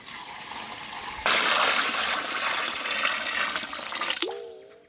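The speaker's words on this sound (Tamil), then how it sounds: "பிரியாணிக்கு அளவான தண்ணியை சேர்த்துக்கணும்க்கா." Water poured into a pot of mutton mandi biryani makes a loud, steady rushing gush for about three seconds that cuts off sharply, leaving a brief lingering trickle and slosh.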